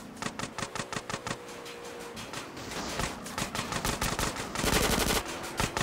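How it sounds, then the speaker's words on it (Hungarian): Video game gunfire in GTA San Andreas Definitive Edition rattles out in rapid automatic bursts, evenly spaced cracks giving way to a denser, louder volley near the end. "Lőnek, meg jönnek."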